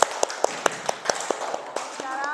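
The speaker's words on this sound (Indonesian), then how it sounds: "tepuk tangan buat kelompok 3" In a classroom, sparse, evenly spaced claps ring out for a presenting student group, a few sharp hand claps in a loose rhythm that thin out toward the end.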